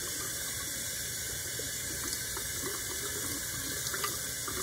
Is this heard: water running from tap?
yes